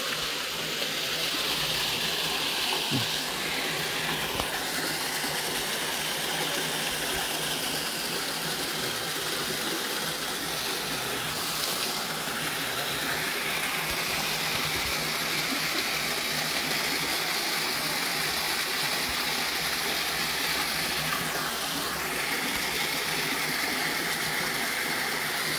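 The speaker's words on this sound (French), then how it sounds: "Une petite cascade d'eau ici." A small waterfall in Djerba pours in a steady, unbroken rush of water, close and fairly loud for the entire stretch, with no voices.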